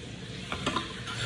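Cauliflower stirred into a pan of sauce, frying with a steady close sizzle and a few scraping, clattering stir sounds on top, no talk.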